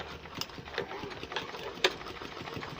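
A sewing machine stitches closed the gap left for the elastic band on night wear boxers, giving a quiet, steady mechanical whir with small clicking ticks and one sharper click, running alone without speech.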